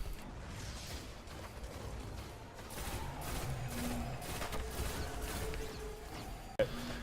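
Gunfire from a vendor test weapon in Destiny 2 rattles in a busy, continuous burst of shots amid combat noise, moderately loud, ending with one sharp, distinct crack near the close.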